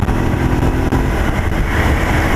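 A Honda Shadow motorcycle engine rumbles loud and close while riding, a steady low throb for the whole stretch.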